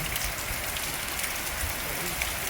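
Heavy rain pours down after a few dry days, making a dense, even hiss of drops hitting the ground nearby. The downpour is steady and loud, with no voices over it.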